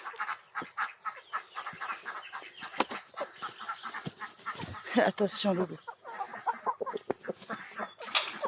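Orpington rooster and hens clucking and calling near a henhouse, the bird calls fairly close and intermittent, mixed with a person talking throughout.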